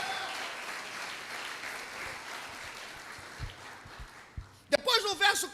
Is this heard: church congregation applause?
yes